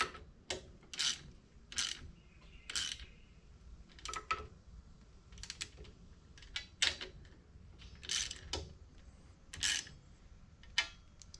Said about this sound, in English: I'm just holding the bolt and tightening the nut down in there